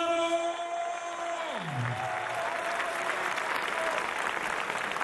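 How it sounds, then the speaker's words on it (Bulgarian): Crowd applause and cheering fill an arena as a fighter is introduced at a Bulgarian pro fight event in Varna, loud and steady throughout, with a tonal sweep dropping early under the noise. "моля за вашите бурни аплодисменти за Богдан Шумаров"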